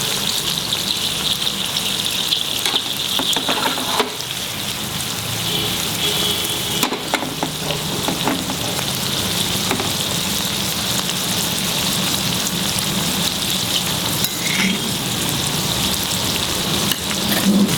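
Mutton koftas frying in a pan of hot oil, a steady dense sizzle and crackle that continues loud and unbroken throughout, with no talking.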